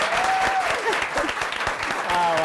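Applause from a studio audience fills the moment, a dense steady patter of clapping with a voice speaking over it.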